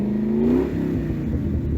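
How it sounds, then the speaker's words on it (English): Ford Mustang GT with a Borla Atak exhaust revving, a deep rising engine note that peaks briefly, then settles into a rough rumbling idle, loud and close. "Just rev it."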